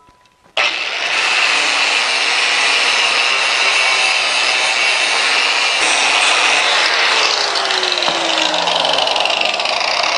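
A loud, continuous abrasive grinding against a freshly brazed metal tool rest clamped in place, starting abruptly after a moment of quiet and holding a harsh, steady roar close by with a slight shift in pitch near the end, no voices.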